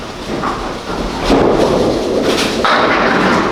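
A bowling ball crashes into the pins during a league night at a bowling alley, a loud rolling rumble breaking into a clattering crash, set against the steady din of the lanes.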